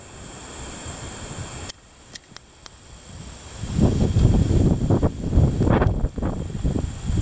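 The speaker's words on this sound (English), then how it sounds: "The heavy wind." Heavy wind blowing outdoors, quiet hiss at first and then loud gusting buffets across the microphone with several brief knocks, rising and falling in surges.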